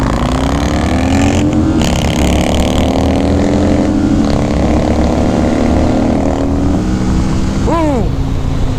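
A Kawasaki Vulcan 650S and a Harley-Davidson CVO accelerate hard from a standing start in a drag race, with a loud continuous engine roar and rising revs that hit the rev limiter. Wind noise runs throughout.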